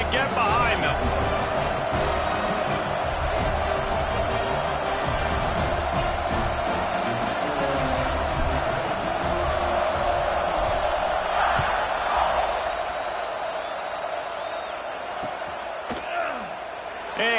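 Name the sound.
crowd cheering in College Football 26 video game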